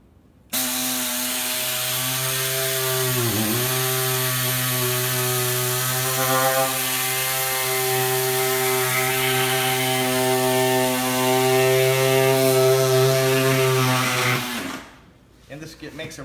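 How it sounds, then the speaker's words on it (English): A low reciprocating saw cuts through a rock with a loud, steady droning buzz and strong harmonic tones that run for about fourteen seconds, dip briefly early on, then stop abruptly. "You can do it on a bandsaw. This is a low reciprocating saw."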